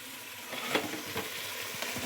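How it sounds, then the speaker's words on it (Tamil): Mushrooms for a mushroom biryani sauté in a pan with a soft, steady sizzle. Light scraping stirs break in at irregular moments, and there is no talking. "இப்போ நல்லா வதக்கிட்டு இப்போ வந்து கொஞ்சம் மஞ்சத்தூள் போட்டுக்கலாம்"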